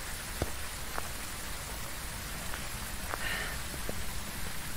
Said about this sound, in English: Why is it gotta be raining though?